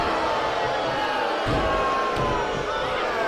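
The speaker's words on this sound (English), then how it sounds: "And the chorus of boos continues as Hulk Hogan," Wrestling arena crowd booing Hulk Hogan during a double-team attack, a steady loud roar of boos and jeers filling the hall throughout, with a brief thump near the middle.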